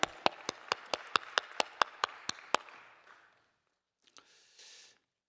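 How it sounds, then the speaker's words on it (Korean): About a dozen crisp, evenly spaced claps, close and clear, from a gathering at an Easter dawn union church service in Anyang; the rhythm stops partway through and a brief faint rustle follows. "박수 한번 주시겠습니다."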